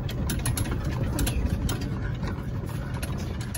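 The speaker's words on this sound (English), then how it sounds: "I'm driving my friend's golf cart, so we gotta drive slowly." A golf cart engine running while driven slowly, a steady low rumble with rattling mechanical ticking, close and continuous throughout.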